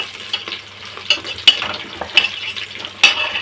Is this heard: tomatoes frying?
yes